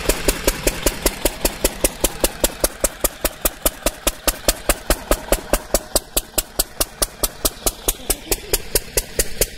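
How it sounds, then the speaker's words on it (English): A pump engine at a jaggery-making shed in Maraiyoor, Kerala runs with a steady, rapid knocking beat, evenly spaced thumps sounding loud and close throughout. "Oh, it's a pump going in over there."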